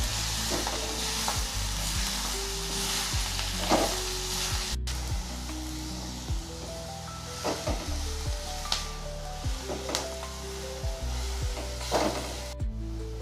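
Fenugreek (methi) leaves being sautéed with garlic in a pan, a continuous close sizzle with regular knocks and scrapes of a spatula stirring through the greens.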